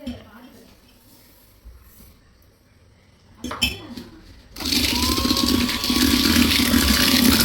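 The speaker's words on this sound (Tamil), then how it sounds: "இப்போ நம்ம 90 கிராம்ஸ் சுகர் எக்குக்குள்ளே மிக்ஸ் பண்ணிக்கலாம் அண்ட் வில் பீட் இட்" Eggs and sugar for brownie batter start being beaten by an electric mixer, whose steady, loud whirring hum begins partway through after a few clinks of bowl and utensils.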